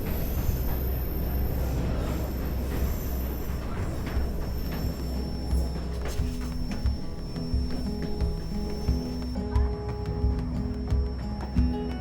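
A White Pass railway train near Skagway rumbles past on rails, a steady low rolling drone with clanks and faint wheel squeal, heard from close by without talk.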